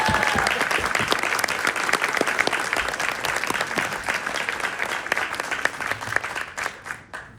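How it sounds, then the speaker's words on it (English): A crowd at an undergraduate acceptance speech breaks into sustained applause, dense and loud, with many overlapping claps. It thins out and fades over the last second. "I'll ask for a special round of applause for him"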